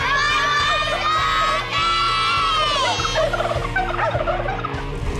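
Turkeys gobbling loudly and close at a children's farewell party for the birds, repeated warbling calls over music with excited children shouting and cheering in the background.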